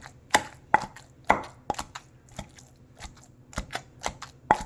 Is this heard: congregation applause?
no